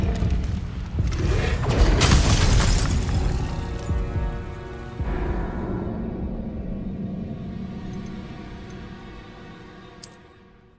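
An Incendio fire spell in Hogwarts Legacy erupts in a loud booming, crackling blast that rumbles and slowly fades, leaving a lingering ringing tail.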